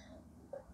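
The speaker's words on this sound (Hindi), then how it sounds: "पता नहीं क्यों तक कफ आ रहा है" A single short, sharp cough bursts out at the very end after near silence, close to the microphone.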